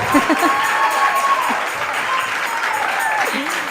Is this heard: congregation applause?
yes